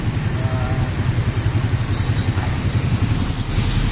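A red Katikas TC 125 motorcycle engine runs steadily up close, a continuous low rumbling idle with a rapid, even pulse and no talking over it.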